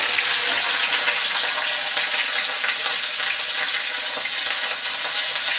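Okra frying in a pan, a loud, dense, continuous sizzle of hot oil heard up close throughout.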